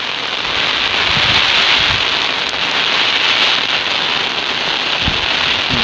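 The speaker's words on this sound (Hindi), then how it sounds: "बहुत तेजी से बारिश हो रहा है" Heavy rain pours steadily in a dense, continuous hiss, close by, with no voices over it.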